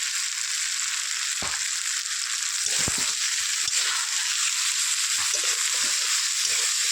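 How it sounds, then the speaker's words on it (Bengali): Potatoes sizzle steadily in hot oil with salt and turmeric, a constant bright hiss broken by a few sharp knocks and scrapes of a spoon stirring through the pan. "আলু কষানো হয়ে গেছে বন্ধুরা"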